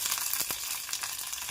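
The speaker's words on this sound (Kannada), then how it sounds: "ಈಗ ಸಾರಿಗೆ ಒಗ್ಗರಣೆ ಹಾಕ್ತಾಯಿದ್ದೀನಿ." Mustard seeds and curry leaves sizzle in hot oil as a tempering for village-style country chicken gravy, a steady close crackling hiss with a few sharper pops, no voices.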